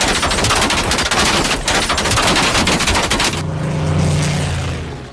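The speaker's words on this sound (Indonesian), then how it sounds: "pesawat tempur Inggris lewat kemudian melepaskan tembakan secara beruntun ke dalam mobil" Rapid machine gun fire from a British fighter plane strafing a car in a war film, a dense continuous burst of loud shots that cuts off and gives way to a low engine drone.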